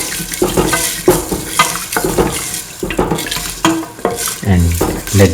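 Stirring mung beans, potato and vermicelli with water in a pan: repeated scraping, sloshing strokes at a steady rhythm, close and fairly loud, with clinks of a utensil against cookware.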